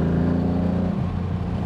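TVR Tuscan S engine under throttle: a loud, close, deep engine tone with a steady harmonic drone whose pitch shifts partway through, heard alone without talk.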